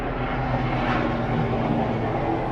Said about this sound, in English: That's bloody aeroplane or helicopter or something.